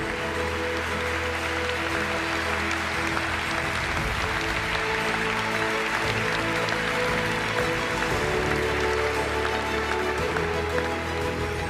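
Dense sustained applause from a gala audience at a national canoeing awards ceremony as award winners are honored, a steady roar of clapping holding for the full stretch, with no voices rising above it.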